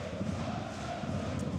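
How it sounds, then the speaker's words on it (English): A capacity crowd at a third-division football match between Energie Cottbus and Hansa Rostock at a 22,500-seat stadium, a dense continuous roar of distant voices, steady and broad. "Definitely a capacity crowd in here this afternoon."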